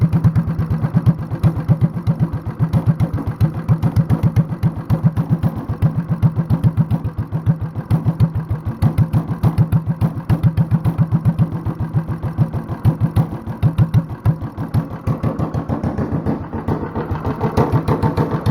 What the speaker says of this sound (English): this is how you build a hit and miss engine at home with a Honda clone